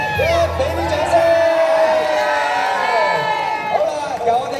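A crowd at a TV drama Mother's Day promotional event cheers and whoops loudly after a countdown, a steady mass of voices and shouts filling the whole stretch, with no distinct clapping standing out.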